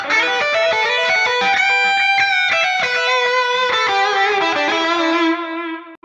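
Electric guitar through a Headrush unit on a crunch setting, with a boost distortion added for lead playing and delay on the sides, plays a sustained, overdriven lead line alone and loud, notes ringing out before fading at the end.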